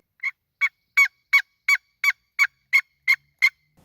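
A turkey yelp played on a wooden box call for wild turkey hunting: ten evenly spaced, loud, raspy notes in a steady rhythm, clear and alone against silence.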